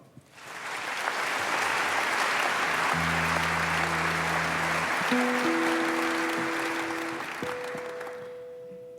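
Audience applause welcoming a singer to the stage, a dense, steady wash of clapping that swells quickly and holds, while low instrumental tones sound beneath it.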